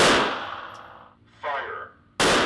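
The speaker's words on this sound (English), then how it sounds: "2 shots will be fired on the first command, followed by 3 shots on the second." Handgun shots on an outdoor shooting range during a carry-licence qualification drill, a sharp loud report at the start, a brief second crack midway and another abrupt bang at the end.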